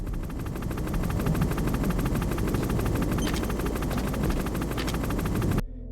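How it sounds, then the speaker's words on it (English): A helicopter in the video game Metal Gear Solid holds a steady, loud rotor thrum with fast regular blade pulses, sustained close by for several seconds before cutting off abruptly. "the directional sound design for the helicopter as it hides from view is a useful aid"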